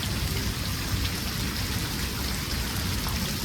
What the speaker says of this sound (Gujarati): આમ બહુ સખત વરસાદ છે.